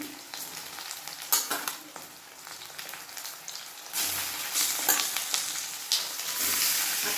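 Broiler chicken pieces stir-fry with spices in a pan, a close crackling sizzle broken by scraping and clattering stirs, turning into a louder, denser hiss in the second half.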